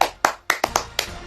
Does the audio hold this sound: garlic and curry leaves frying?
no